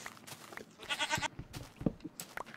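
A goat in the Minecraft video game gives a short, nasal, wavering bleat amid soft scattered game sounds, moderately close, followed by faint clicks and a brief low thump.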